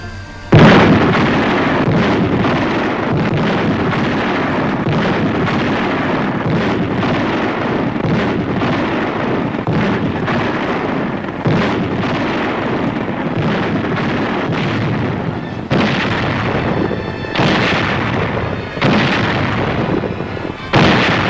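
Heavy guns fire repeatedly in archival wartime Pacific combat footage, a long run of booming blasts and rumbling bursts with wind-like noise, loud and continuous throughout.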